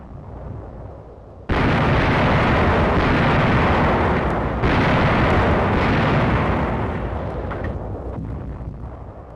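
Artillery shelling and 75mm tank gun fire near Massa in 1945: an abrupt heavy boom opens a continuous loud rumbling barrage, with another sharp burst partway through, slowly easing off, no speech.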